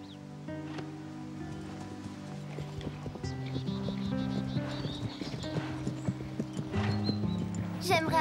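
Hooves of the horse Diablo clip-clopping in steady rhythm, moderately close, under background music with a voice speaking in French over it.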